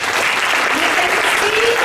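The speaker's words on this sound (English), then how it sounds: "you should clap for them" Students at a school assembly clap for classmates who earned perfect scores, a dense, even burst of applause filling the hall with a faint voice underneath.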